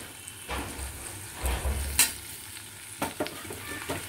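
Boiled potatoes being fried and stirred in a pan for potato bharta: a soft, steady sizzle broken by a few scraping stirs of a spatula, close by with no talking.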